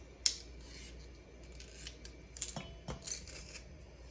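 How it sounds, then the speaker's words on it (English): Garlic being crushed for homemade Italian meatballs, heard as a sharp metallic snap followed by quiet scraping and crunching clicks at close range. "We're going to crush our garlic."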